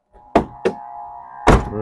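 Car doors on a 1992 Isuzu Panther 2.3 at a showroom, two quick solid thunks close together, then a third heavier slam a moment later, all close and loud.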